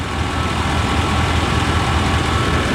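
A 1988–90 GMT400 pickup truck engine running loud and close as the throttle is pressed slightly, a steady low rumbling drone with only a slight lift in revs.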